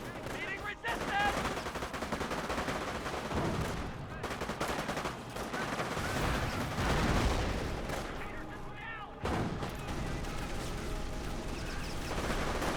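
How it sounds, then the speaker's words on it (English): Small-arms gunfire rattles through a Company of Heroes battle between US and Panzer Elite forces, with dense overlapping bursts and machine-gun chatter running almost continuously, plus a brief lull near the end and voices faintly under the din. "Taking small arms fire here."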